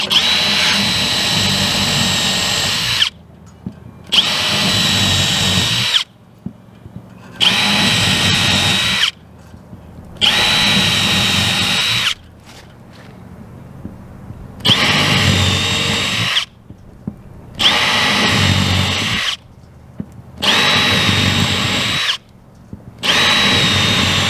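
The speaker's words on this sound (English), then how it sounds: "So I'm going to drill those" A power drill bores holes for standouts, running in about eight loud, close bursts of a few seconds each, whining under load, with short quiet pauses between them.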